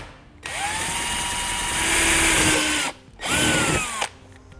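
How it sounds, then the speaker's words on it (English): A small power drill bit bores out plastic rivets on a 2018 Jeep Grand Cherokee during a base plate install, whining loudly for a long burst, stopping briefly, then spinning up for a second shorter burst, close up. "we're going to drill right in the center so we can get those rivets out."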